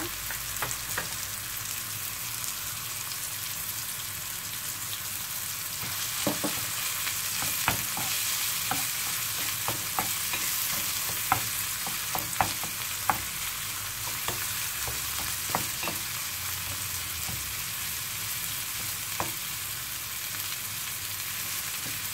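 A pizza topping with paprika and parsley cooks in a pan, giving a steady frying sizzle broken by intermittent spoon stirs and scrapes clinking against the pan.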